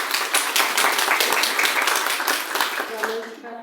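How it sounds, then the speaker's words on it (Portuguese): Church congregation clapping for Jesus during an evening service, a dense burst of hand claps that fills the space and tapers off toward the end. "Palmas para Jesus"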